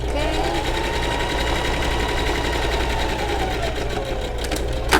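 Sewing machine running steadily while stitching the lining of a handmade pouch bag, a fast continuous mechanical whir that holds close and loud throughout.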